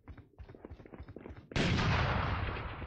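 Rapid bursts of gunfire in the video game ROIK crackle in quick succession, then a loud, sustained blast of noise takes over.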